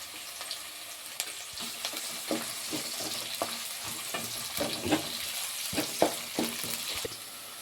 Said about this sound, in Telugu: ఉల్లగడ్డ అయితే ఇలా కొద్దిగా ఎర్రగా అయ్యేంత వరకు అయితే ఇలా వేయించుకోవాలి